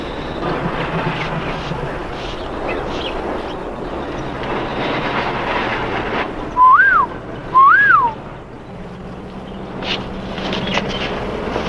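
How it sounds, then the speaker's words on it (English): A man gives a whistle signal, two short rising-and-falling whistled notes about a second apart, sharp and clear over a continuous rumbling background of rail noise. "That was his whistle."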